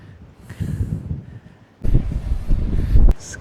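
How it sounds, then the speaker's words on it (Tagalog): Strong gusts of wind buffet the microphone high on the clifftops of Santorini, with rumbling bursts that rise and drop away and grow louder near the end. "ang lakas ng hangin"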